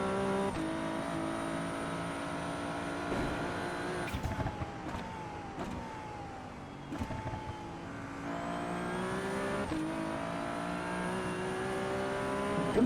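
Ferrari 296 Challenge race car in iRacing on the Nordschleife, engine howling through repeated upshifts and downshifts, pitch rising and dropping sharply, close and continuous with brief tire squeal and no talk.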